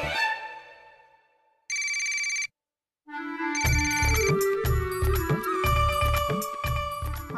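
A mobile phone ringtone sounds loudly in a Marathi TV serial scene: a fading tone, a brief bright electronic burst, a short pause, then a busy melodic ring tune that plays on without any talk.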